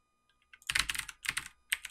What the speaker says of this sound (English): I'm pressing arrow buttons right now